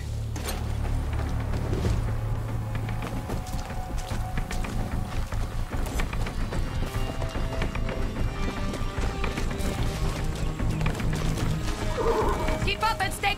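Horse neighs and galloping hooves in the Far Cry 6 video game, a steady run of clip-clop under busy game music and effects, with occasional speech.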